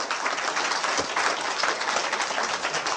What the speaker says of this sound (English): if we could have a massive hand for Robert Arthur Menard, Freeman on the land, please